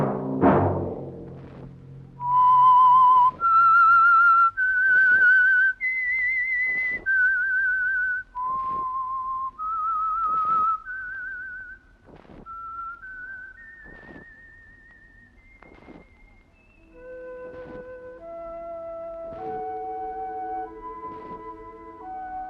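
A lone human whistler carries the theme melody of The Whistler radio program, a slow series of sustained, clear tones rising and falling over about twenty seconds after a brief low thump, with no talking.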